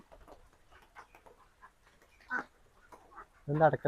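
A guinea fowl gives a loud, harsh, rasping call near the end, after quieter scattered clucks and soft voices in the background.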